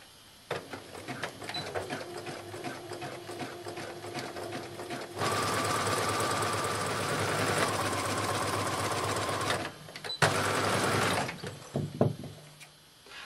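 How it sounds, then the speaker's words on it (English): A sewing machine stitches zigzag inseams on swim shorts fabric, running in two steady sustained bursts, a long one and a shorter one, with brief quiet pauses and handling between them. "you begin sewing on that piece of fabric"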